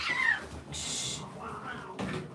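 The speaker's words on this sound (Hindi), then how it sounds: "बिल्लियाँ लड़ रही है" Cats fighting, with a high wavering yowl followed by a burst of hissing and shorter cries, loud and close, against faint room noise.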